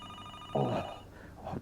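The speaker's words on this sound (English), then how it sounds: "Where's that phone?" A telephone rings in a quiet room, a short loud burst of bell-like ringing followed by the start of a second, fainter ring, with no voices present.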